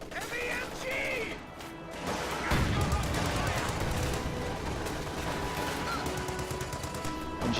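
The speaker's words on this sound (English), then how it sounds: "Shift your fire! Heavy MG!" Heavy machine gun fire in a tactical wargame, rattling bursts and explosive crashes over busy battle noise, steady and loud, with voiced callouts in between.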